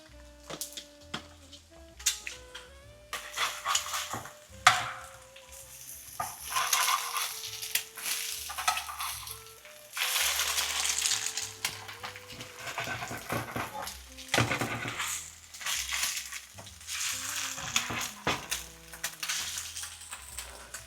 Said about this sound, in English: just sizzles in that butter